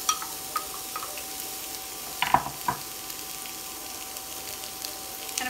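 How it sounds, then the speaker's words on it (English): Finely chopped onion sautés with salt in a tablespoon of olive oil for a taco casserole. A soft, steady sizzle runs throughout, with a few light stirring clicks and scrapes. "I'm gonna saute this in a tablespoon of olive oil with a half a teaspoon of salt"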